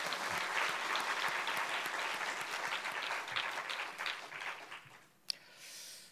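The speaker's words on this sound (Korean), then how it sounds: "다시 한번 주님께 영광의 박수 한번 올려드리겠습니다" Congregation at a Korean church youth worship service claps in steady, dense applause that carries for several seconds and then tapers off in a large room, with no voices over it.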